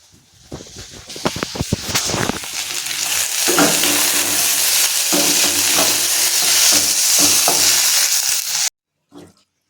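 Aloo posto, potatoes with poppy seeds, frying in a pan with a loud, steady sizzle and a few stirring clatters, running continuously for about nine seconds before cutting off, with no talk.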